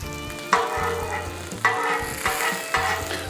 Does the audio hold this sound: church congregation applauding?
no